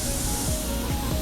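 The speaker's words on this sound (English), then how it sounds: "So yeah, spraying it at 28 PSI." Spray gun laying down metallic black Glasurit paint at 28 PSI, a steady close hiss of air and atomized paint with no pauses.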